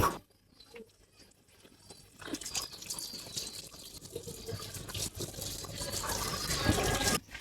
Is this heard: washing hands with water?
yes